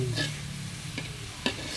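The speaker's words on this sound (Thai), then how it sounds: "ไม่จำเป็นต้องใส่ตะแกรงใส่กระทะย่างเลย" Blanched shiitake and egg mushrooms grill directly in a pan without a grate, giving a soft, steady sizzle broken by a few scraping stirs and light taps of a utensil.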